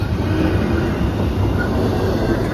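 BNSF freight train rolling past close by, a loud, steady rumble of wheels and cars with constant rail noise and no talking.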